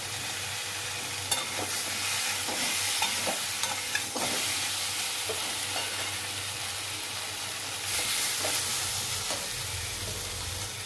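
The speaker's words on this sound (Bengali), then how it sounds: "সব মশলাটা একটু কষিয়ে নিয়ে আর জল দিয়ে দেবো" Spices fry over a medium gas flame for a thin vegetable-stem curry. A continuous close sizzle runs throughout, broken by repeated scraping stirs of a spoon against the pan, and no one speaks.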